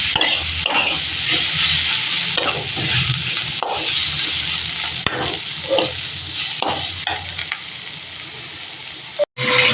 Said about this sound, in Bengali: এদিকে দেখো মাছের মাথাটাও ভেজে নিচ্ছি